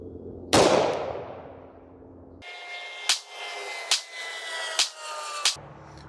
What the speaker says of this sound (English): I'm just gonna go ahead and shoot it at this target